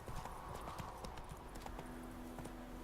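Roach the horse galloping in The Witcher 3, a quick steady patter of hooves under a continuous rumble of game ambience.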